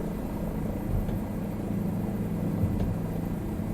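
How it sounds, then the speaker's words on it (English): A helicopter in the Microsoft Flight Simulator video game flies close over safari scenery, giving a steady low rotor and engine drone at constant loudness with no talking. "I think they would really be disturbed by a helicopter coming that close."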